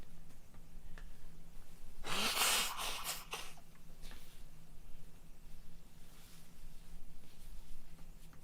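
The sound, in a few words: person blowing their nose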